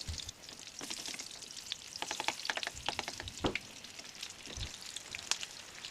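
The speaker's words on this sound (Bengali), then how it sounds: "এইভাবে আমরা একটা একটা করে লঙ্কা গরম তেলে দিয়ে দেব।" Batter-coated green chillies drop into hot oil and sizzle, with bursts of sharp crackling pops and spitting that rise and fall, close but fairly quiet.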